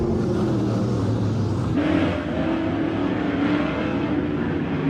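Race cars roar off the start at Emo Speedway during the Emo Fall Fair Rae Memorial, a loud, sustained engine drone that swells in pitch and intensity as the field accelerates, with no talk over it.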